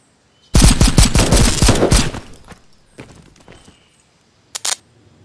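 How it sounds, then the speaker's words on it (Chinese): Gunfire in a horror game about a young girl fighting ghosts with a gun, with a loud rapid burst of shots, a few scattered later reports, and a short final pair of shots. "枪声"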